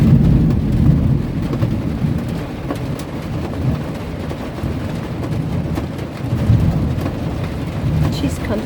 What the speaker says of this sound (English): thunder was really loud.